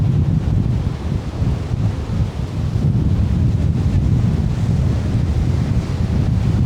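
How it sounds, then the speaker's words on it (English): Strong wind from Storm Byron in Paphos buffets the microphone with a constant heavy roar and rumble, steady and loud throughout with no voices. "Gosh, it is windy though."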